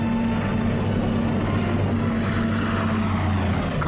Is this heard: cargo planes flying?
yes